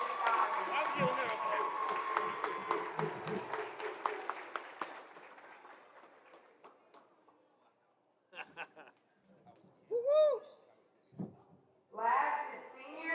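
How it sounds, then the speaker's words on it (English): A crowd at a girls basketball senior night applauds a senior player in a gym, with brisk clapping that fades over about six seconds, followed by scattered voices and cheers. "Everyone, please give a round of applause for senior Lady Ram basketball player Alexis Dyer."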